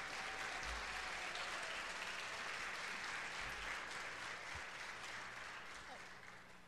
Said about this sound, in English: Let's give our children a round of applause